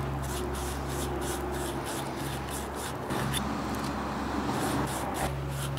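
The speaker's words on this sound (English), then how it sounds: "Now we have some of this cloth or sandpaper, type of emery cloth stuff." Emery cloth rubbing against copper pipe to prepare it for soldering, producing a soft, rhythmic scratching swish repeated in quick strokes over a steady low background hum.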